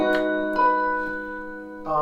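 Solo piano playing the lead-in chords of a song, a few sustained chords struck one after another with ringing decay and a fresh chord near the end, quiet and close.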